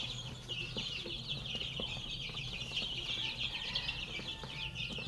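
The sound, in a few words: backyard free range chickens clucking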